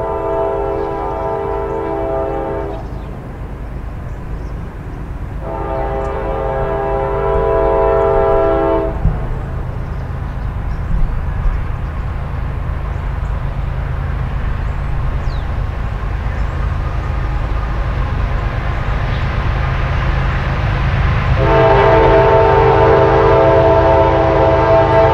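Train M560 departs northbound to Carlisle, its engine rumbling steadily as three long, loud horn blasts sound, two early and one near the end.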